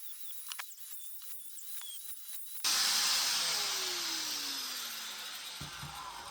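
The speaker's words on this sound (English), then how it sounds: "So we'll just take a grinder and take some off." An angle grinder bites into a metal coilover part for a Porsche 944 front suspension, a loud sudden whine after a few quiet seconds, held steadily and slowly dropping in pitch.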